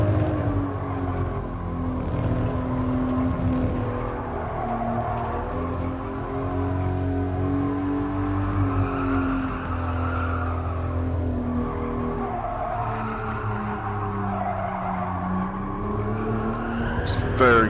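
A Toyota Supra engine pulls hard under acceleration in a VR driving game, a steady loud roar rising through the gears with tire squeal, while someone talks over it throughout.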